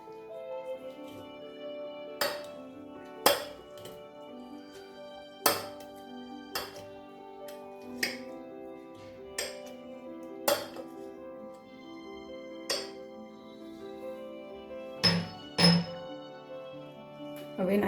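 Lime pieces being smashed with black salt for a mojito, giving a series of sharp, separate knocks and clinks of a muddler against the glass at irregular intervals, fairly close and distinct over a quiet background.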